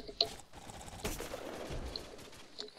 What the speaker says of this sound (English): Double fireworks!